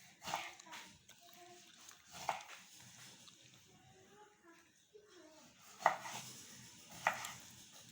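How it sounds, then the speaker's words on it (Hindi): Tomatoes being cut with a knife while cooking chicken karahi, a few sparse, faint chops and taps spaced seconds apart, with a dog and background voices audible. "ये देखिए हम अब टमाटर की कटिंग कर रहे हैं।"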